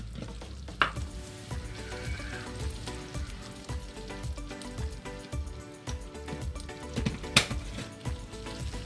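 Ground black pepper and spices fry in a hot pan, giving a steady low sizzle with soft stirring scrapes throughout and one or two sharper clinks of utensil against pan.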